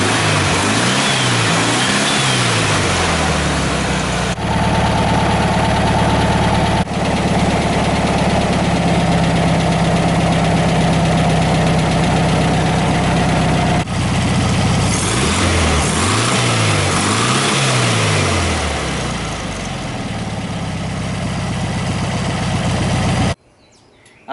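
A 1985 Volkswagen Beetle (Fusca) engine idles after its ignition timing was advanced to 15 degrees, giving a steady loud air-cooled drone with a couple of throttle blips and rev swells, close by, before cutting off at the end.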